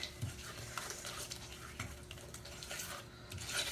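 Brownie batter being mixed by hand in a bowl for raspberry truffle brownies: soft, repeated scraping and clinking strokes in an even rhythm, close and quiet, with no talking.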